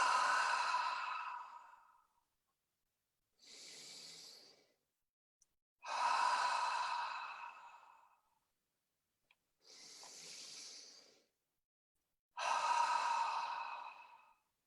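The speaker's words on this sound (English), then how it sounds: "we take 3 deep in and out breaths like this" Three slow, deep breaths, each a long audible inhale followed by a softer exhale, close and alone with pauses between them.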